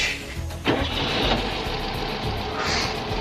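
An old Volkswagen Beetle engine runs at a steady, rough mechanical drone, close and moderately loud, with a brief sharp knock near the start and no voices.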